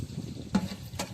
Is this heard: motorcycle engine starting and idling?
no